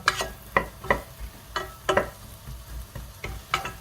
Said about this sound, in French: On remue avec une cuillère en bois.